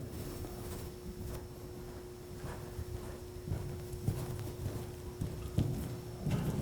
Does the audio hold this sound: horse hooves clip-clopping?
yes